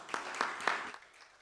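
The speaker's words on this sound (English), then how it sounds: "Another round of applause for the questions and the answer session that we have recently exhausted." An audience gives a short round of applause at a public campaign launch, with a few scattered claps that fade quickly into quiet.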